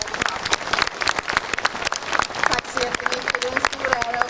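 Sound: audience applause

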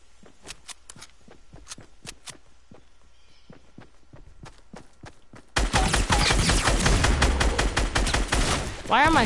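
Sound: gunfire from the video game Fortnite

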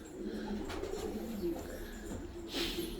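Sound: pigeons cooing in a loft

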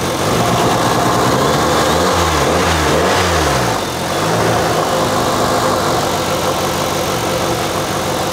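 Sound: Honda D16 turbo engine running on E85

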